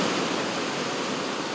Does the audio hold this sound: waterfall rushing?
yes